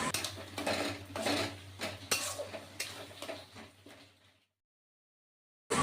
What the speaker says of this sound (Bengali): দেখুন খুব সুন্দরভাবে মশলাটা কষানো হচ্ছে